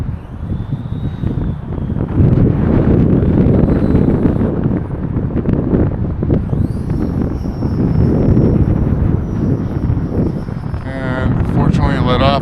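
A Volantex P51D Mustang 400mm RC plane flies in strong winter wind, its thin motor whine rising and falling over heavy, loud wind buffeting on the microphone.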